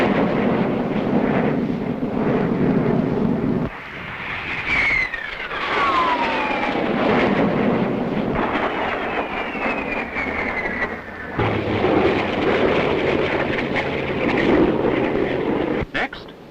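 A de Havilland Vampire jet fighter flies aerobatics, its engine roar rising and falling with a descending whine as it passes, over a loud rumbling background with a narrator speaking.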